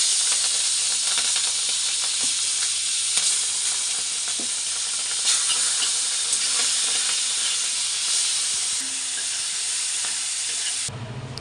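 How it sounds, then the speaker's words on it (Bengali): Fish frying in hot oil gives a loud, steady sizzle and hiss that runs unbroken for about eleven seconds, then cuts off sharply at the very end, with no voices over it. "আর চলো এখন মাছগুলো আমি ভেজে নিই।"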